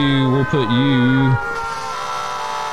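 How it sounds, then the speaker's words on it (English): A fire engine siren wails in the EmergeNYC firefighting game, a loud wavering tone that stops abruptly after about a second and a half, followed by a lower hum of vehicle noise while a person speaks. "It's chaos with all the sirens and stuff."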